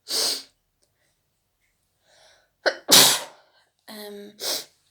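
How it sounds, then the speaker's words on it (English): A single loud sneeze, preceded by a sharp intake of breath and followed by short breathy sniffs, close up with silence between. "gonna sneeze."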